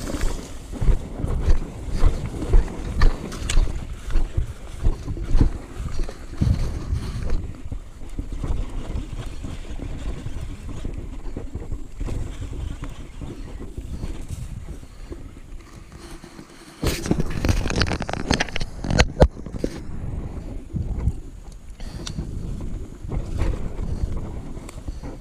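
A boat engine runs on open water, a continuous low rumble mixed with wind buffeting the microphone and water patter, steady for the whole stretch.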